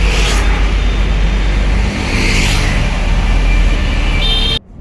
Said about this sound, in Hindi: ले भाई गाड़ी फंस गई, पार्थ की गाड़ी फंस गई